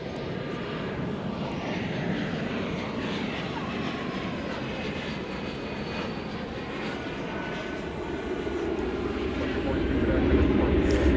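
An airliner's engines roar steadily during takeoff on runway 18 left at DFW Airport, a broad continuous rumble that swells louder toward the end, heard from a distance.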